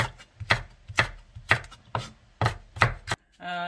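A knife slices Cheongyang chili peppers diagonally on a cutting board for japchae, eight crisp, evenly spaced chops close up, followed by a brief clatter.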